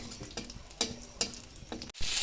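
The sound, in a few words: bay leaf, dried chili and cardamom sizzling in hot oil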